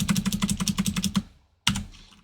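Computer keyboard typed in a quick run of about a dozen close, crisp clicks, then a short silence and one final louder keystroke.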